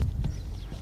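Horse hooves walking at a riding stable, a few soft clip-clop thuds close by over a steady low background, with no talking.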